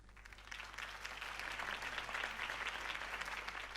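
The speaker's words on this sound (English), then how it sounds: "could have heard that applause" A crowd applauds at a campaign speech in the Batman Telltale Series video game, a dense steady wash of clapping that holds at an even level from start to finish with no voices.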